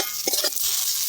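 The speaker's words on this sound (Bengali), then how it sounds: "এবার কেটে রাখা টমেটো দিয়ে দেবো।" Chopped tomato tipped into onions frying in a pan for an aman fish curry with aubergine and potato, then stirred: a steady close sizzle with a few soft scraping stir strokes, no voices.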